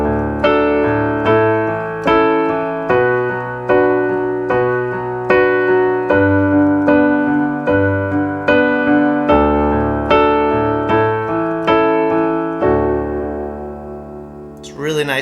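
Piano plays a left-hand bass pattern under right-hand chords, struck in a steady repeating rhythm with notes decaying between strikes, clear and alone until a final chord rings out.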